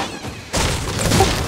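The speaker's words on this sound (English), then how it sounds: "Hear shots? Where?" Gunfire in the Fortnite video game, a dense burst of shots and booms starting abruptly partway through and continuing loudly to the end.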